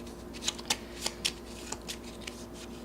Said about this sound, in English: I'm shuffling this back into the deck.